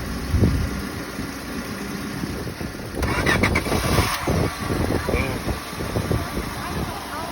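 A faulty car engine is cranked in extreme cold, a rough grinding rumble that starts about three seconds in and sputters unevenly without settling, with faint background noise before it.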